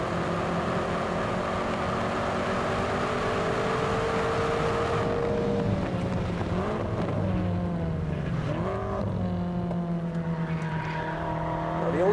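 BMW M5 hurtling down the front straight at Buddh International F1 Circuit, engine droning loud and near with rising and shifting tones as it accelerates, no talk.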